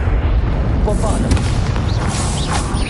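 A Bombarda explosion spell detonates in the video game Hogwarts Legacy, a loud, sustained booming rumble lasting through the clip, with brief whooshing magical effects layered on top.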